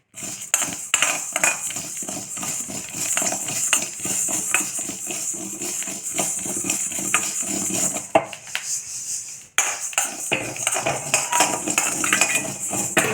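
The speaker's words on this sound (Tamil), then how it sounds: "ஜவ்வரிசி நல்லா பொரியுது சத்தம் வருது பாருங்கள் அப்படியே பொரியுது" Sago pearls (javvarisi) popping as they roast dry in a pan: a steady stream of close, dense crackles and ticks that pauses briefly, then resumes just as busy.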